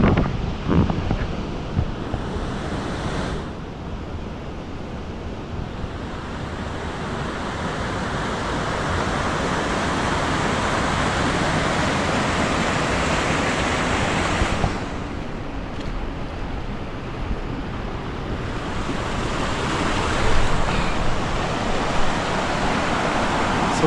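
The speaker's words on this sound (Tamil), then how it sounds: "ஏன்னா அந்த வாட்டர் ஃபால்ஸே ரொம்ப இதை சவுண்டு பட்டே கிளப்புது" Loud waterfall near a tent campsite in Vattavada village, a constant heavy roar of rushing water filling the whole stretch without pause.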